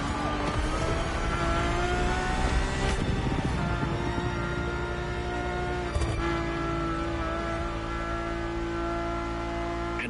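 A race-derived carbon fiber supercar engine revving in the video game The Crew Motorfest, a loud sustained engine drone with shifting pitch and brief surges, continuous and close with no talking.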